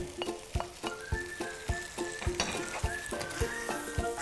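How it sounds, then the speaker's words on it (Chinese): Shredded pork tenderloin and bamboo shoots stir-fried in a hot wok with cooking wine, a steady oily sizzle punctuated by regular sharp scrapes and clacks of the spatula, close and fairly loud. "然后呢我们把笋丝放下来，把肉丝放下来"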